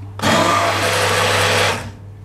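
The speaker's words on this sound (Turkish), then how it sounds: "blenderdan geçiriyoruz" A blender whirs loudly and steadily for about a second and a half, pureeing cooked cauliflower for soup, starting abruptly and then cutting off.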